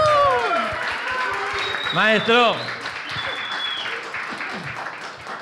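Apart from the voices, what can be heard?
audience applause welcoming a guest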